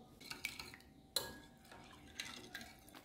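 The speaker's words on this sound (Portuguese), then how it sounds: "Daí eu mexo esse fermento, coloco um ovo e 60 ml de óleo." A spoon stirs yeast with an egg and oil in a bowl for cornmeal bread, giving scattered clinks and scrapes against the dish, one sharper knock among them, close and fairly quiet.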